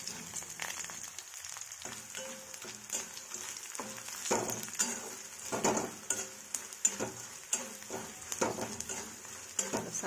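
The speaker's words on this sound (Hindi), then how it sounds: "मीडियम फ्लेम में ही हम इसे फ्राई करेंगे, थोड़ा थोड़ा करके हम इसे फ्राई कर लेंगे गोंद को।" Edible gum (gond) frying in oil over a medium flame, a continuous soft sizzle broken by frequent crackles and small pops as the pieces puff up, heard close and fairly quiet without speech.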